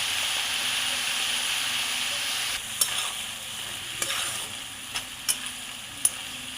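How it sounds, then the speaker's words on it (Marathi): Dill greens sabzi sizzles steadily in a pan, with a bright continuous hiss broken by several sharp scrapes and clacks as a spoon stirs it. "एकसारखी अशी भाजी आपण हलवून घेऊया"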